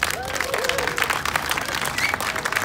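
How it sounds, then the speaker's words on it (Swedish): A crowd applauds at the March for Science Stockholm launch event in 2018, producing dense, steady clapping that fills the whole stretch at an even level, with a faint voice or cheer mixed in. "jag tycker vi ger er en applåd."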